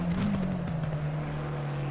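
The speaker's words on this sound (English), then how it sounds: "You can hear the car in the foreground there" A racing car in Race On, a McLaren at Spa during a three-hour endurance race, drops down through its gears with a steady engine drone and brief revving blips, heard alone at moderate volume.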